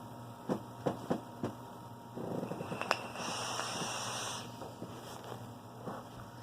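A cat purrs close by, rising into a steady rumbling stretch after a few soft, rhythmic thumps and rustles. The sound is fairly quiet and heard without talking.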